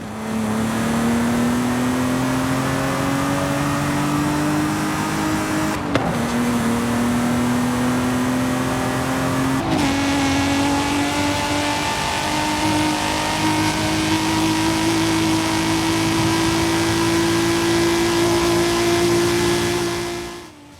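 A car engine in Forza Horizon 5, fitted with a new exhaust and intake, drones loudly and climbs steadily in pitch as it accelerates, with two quick gear shifts briefly breaking the rising tone.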